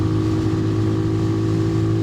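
A motorcycle engine revs hard on a long straight, a loud, close, steady high-rev drone that holds without a break and with no voices over it.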